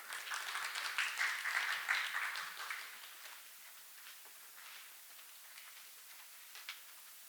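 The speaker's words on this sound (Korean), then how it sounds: "큰 박수로 환영해 주시기 바랍니다" An audience at an international martial arts academic seminar applauds to welcome the discussants. The clapping is dense and steady at first, then fades to scattered claps that trail off.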